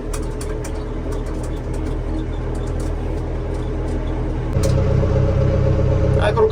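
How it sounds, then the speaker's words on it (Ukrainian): A tractor engine chugs steadily at a low rumble nearby while hauling straw bales, growing slightly louder and fuller toward the end, with a voice talking in Ukrainian over it. "До речі, трактор уже їде тихіше."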